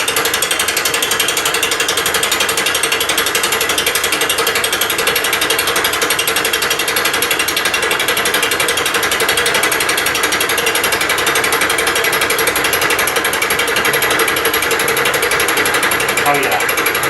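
A Bridgeport milling machine fly cutting under power feed at about setting 3 gives off a loud, continuous grinding whir with a steady mechanical drone throughout, with a voice talking over it.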